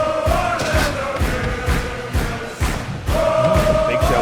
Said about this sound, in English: the crowd already cheering for Orlando, as that crowd noise is absolutely deafening.